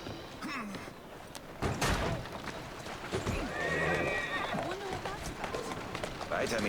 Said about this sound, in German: Hier ist ein gutes Pferdchen.